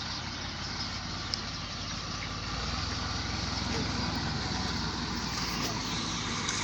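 A tractor engine runs nearby, producing a loud, steady rumbling drone that continues without a break and grows slightly stronger partway through.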